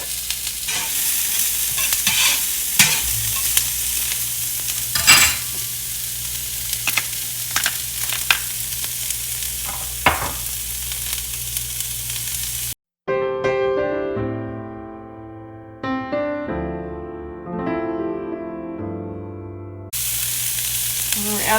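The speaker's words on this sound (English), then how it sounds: "We're gonna saute some onions first, and we're gonna add salt and pepper in it." Chopped onions sautéing in olive oil in a pre-heated pan, a steady loud sizzle with scraping spoon stirs for about thirteen seconds, then the sizzle drops out while a tonal run of sounds plays before the frying noise returns.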